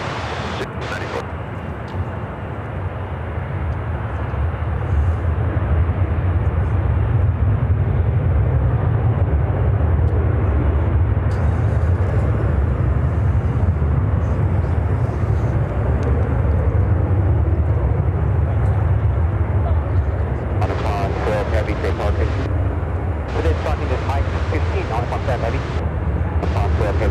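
An airliner on approach to Chicago O'Hare makes a steady, heavy jet engine roar that swells and then holds for a long stretch, with brief bursts of air traffic radio chatter toward the end.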